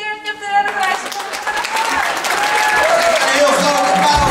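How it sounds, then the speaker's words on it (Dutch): An audience applauds a third-prize winner at a regional youth arts competition in Friesland; a tonal sound opens briefly, then clapping swells and holds, with voices among it. "Een heel groot applaus."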